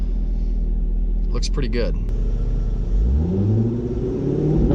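A car engine revs and climbs in pitch, with crackling exhaust pops when the throttle is released. Someone talks over the steady engine rumble.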